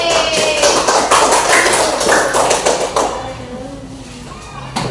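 Students applauding in a classroom, a dense burst of hand clapping for about three seconds that then fades out, with children's voices mixed in.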